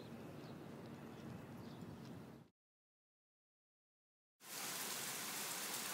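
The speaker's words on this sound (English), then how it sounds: "You might be able to see that there's a downpour going on" Heavy rain pours down in Ibiza town as a loud, steady hiss of falling water. It cuts to silence for about two seconds and then returns at full strength.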